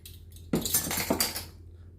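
A spoon stirs chili flakes into a vegan dressing in a bowl, giving a short flurry of clinks and scrapes that starts abruptly and fades after about a second.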